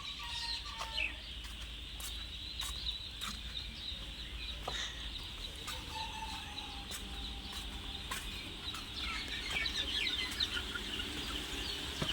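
Chickens of a new breed clucking on a farm, with repeated soft clucks and occasional sharp calls over a faint, steady background hum, moderately distant.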